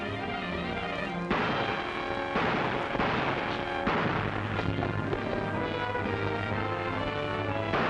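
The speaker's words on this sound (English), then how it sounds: "Gunshots!" Gunfire in a 1944 film, several sharp shots and heavy booming reports over a dense, noisy old soundtrack with a continuous low rumble.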